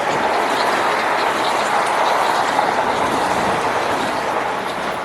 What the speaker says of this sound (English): Oh, it's a New Canaan train.